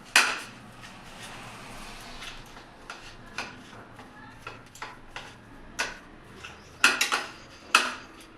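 A spoon stirs a spice coating for corn in a bowl, a run of light, close clicks and taps that grows more forceful toward the end.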